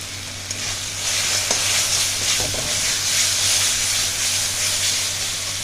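Spices with turmeric, salt and coriander powder fry in a pan for a Bengali duck egg curry, giving a steady, close sizzle and hiss with occasional stirring scrapes, no talk.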